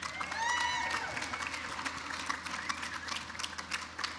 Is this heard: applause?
yes